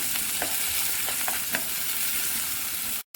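Onions and tomatoes sauté in a pan with a steady, close sizzle and a few light stirring scrapes, then the sound cuts out abruptly just before the end.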